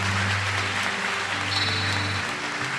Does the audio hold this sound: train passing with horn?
no